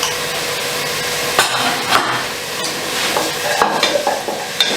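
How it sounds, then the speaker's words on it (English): Onions sautéing in a pan with salt, a loud continuous sizzle broken by several knocks and scrapes of a utensil stirring against the pan, close up with no talking. "I can see that it's properly sauteed."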